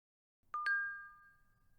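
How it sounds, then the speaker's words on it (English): A message notification chime from the horror visual novel Graces: Posthumous Wish sounds as two quick, bright tones in succession. Their clear ringing tail fades slowly over near silence. "The silence is broken by a ringing chime, signaling that a new message has arrived."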